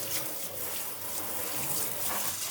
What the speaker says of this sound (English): if you have one of these handy sprayers, make sure you get those little bits out of the sink too